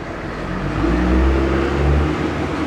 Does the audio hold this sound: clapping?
no